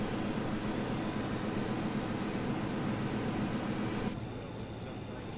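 A BAe146-200 jet engine, number four, runs steadily just after start, a loud continuous roar and whine heard up close that drops slightly in level near the end, with no voices.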